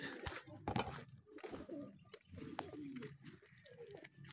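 Racing pigeons coo softly in repeated low, rolling calls, close by and quiet, with some faint rustling between them.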